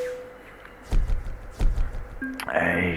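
Trailer being unhitched from a truck in American Truck Simulator, with two heavy mechanical thunks about a second apart followed by a hiss and rising hum at the end, over a faint low rumble.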